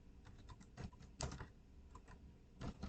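Close, quiet typing on a computer keyboard, a brisk irregular run of light key clicks with a few firmer taps, alone with no talk.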